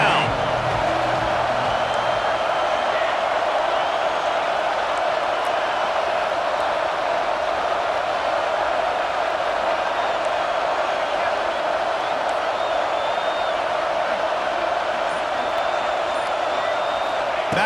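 Stadium crowd roar in EA Sports College Football 26, a steady dense wash of cheering that holds loud and unbroken throughout with no distinct peaks.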